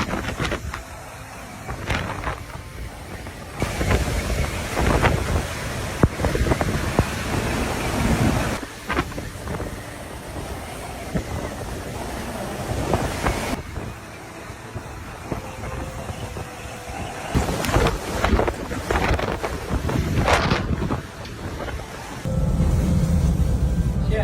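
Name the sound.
Hurricane Ida raging winds and waves at Grand Isle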